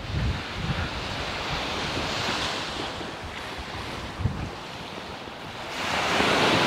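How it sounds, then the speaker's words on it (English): Waves wash steadily onto the beach of a bay near Lippija Tower at Mgarr, Malta, a continuous loud surf roar with wind buffeting the microphone and no talking. "we are on the beach"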